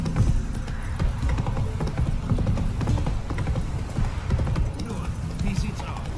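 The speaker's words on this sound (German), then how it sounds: "Ich finde es echt cool, dass man hier jetzt auch mit Pürze reiten kann" Steady clip-clop of a horse's hooves while riding in the video game Witcher 3, continuous and fairly loud under someone speaking German.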